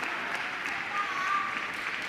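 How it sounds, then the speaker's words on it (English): Muffled applause from the crowd at a world championship table tennis match, a steady, even wash of clapping that lasts about two seconds with no clear break. "To muffled applause."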